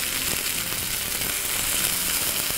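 Tilapia fillets frying in a pan of hot oil give a steady, close crackling sizzle that runs unbroken throughout, with no voices.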